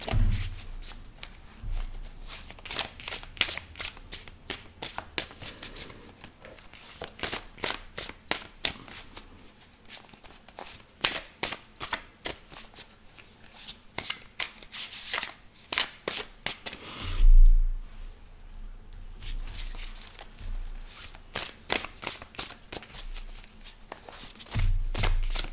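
Tarot cards shuffled by hand in rapid riffling bursts, a dense run of crisp flicks with a short pause and a soft thump midway, close and alone without talk.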